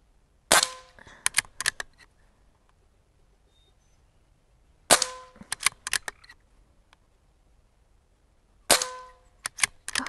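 Revolver shots during speed shooting at targets: three quick bursts of sharp, fairly quiet cracks, several shots per burst in rapid succession, separated by short silences.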